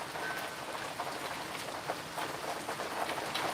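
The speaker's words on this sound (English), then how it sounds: "I have my window open, so I hope you can hear the rain clouds" Heavy, steady rain pours down outside an open window, a dense hiss of drops spattering on surfaces nearby with no break.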